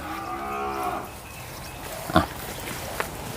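Cattle low at a Thai farm selling F1 and F2 cattle, including a red breeding bull. A drawn-out moo opens the clip, then two short sharp knocks follow over a steady background hum.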